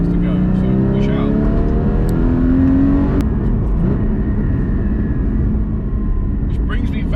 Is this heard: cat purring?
no